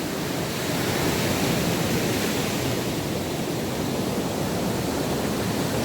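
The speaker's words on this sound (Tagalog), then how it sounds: "Ganyan katindi ang alon, no?" Strong waves pound the shore at a beach in Iba, Zambales, a dense, constant roar of surf filling the clip without pause, loud and close, with no voices.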